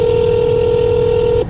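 A phone dialing a call to Papa John's: a single loud, steady electronic tone held for about one and a half seconds, then cutting off abruptly, close and clear with no talking.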